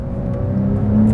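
A Porsche 911 Turbo S 992 drives with its quiet exhaust, producing a steady, loud, close engine hum and whir that rises slightly toward the end.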